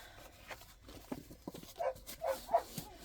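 Several dogs give short, scattered barks at a moderate distance indoors, in irregular bursts that grow slightly louder toward the end.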